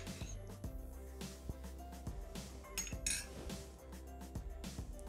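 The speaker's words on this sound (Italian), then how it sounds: "Iniziamo la ricetta mettendo all'interno del boccale l'aglio, le acciughe," Garlic and anchovies go into a Thermomix (Bimby) bowl, producing light clinks and taps of utensils and containers against the bowl, close and fairly quiet over a faint background hum.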